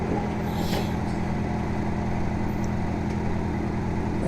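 An 18.5 HP twin-cylinder garden tractor fitted with a dozer blade pushes dirt, its engine droning steadily and loud throughout without a break.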